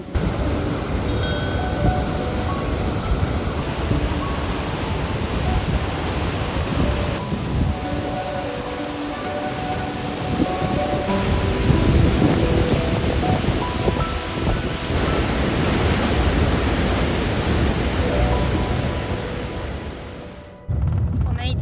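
A waterfall in Iceland drops straight down, heard as a steady, dense, muffled roar that fills the whole clip with no talking over it.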